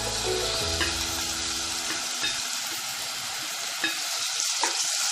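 Chopped tomato sautés with onion in a pan over low heat, a close steady sizzle broken by a few spoon taps and stirring scrapes, with no voices.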